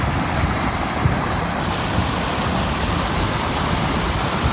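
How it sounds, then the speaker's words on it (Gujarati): Water rushes steadily through a small farm channel amid hills during rainy weather, a continuous close, loud wash of flowing water with no voices. "વાડીમાંથી મસ્ત પાણી જાય છે"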